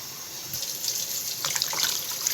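Water runs from a tap into a pot for a roast, a continuous close splashing hiss that grows slightly louder and more bubbly toward the end as the pot fills.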